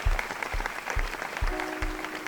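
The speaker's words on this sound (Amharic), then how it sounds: "አንድ ከፍ ይበል ጭብጨባው።" An audience applauds media personality Seifu Fantahun at the Addis Ababa University cultural center, a steady wash of clapping with a few heavy low thumps and a faint tone near the end.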